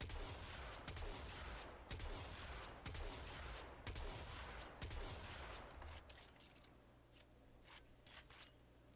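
Corinth Prime shotgun in the Warframe video game fires a rapid string of loud, sharp air-burst blasts for about six seconds, each shot with a booming low thud, then the firing thins out into quieter mechanical clicks near the end.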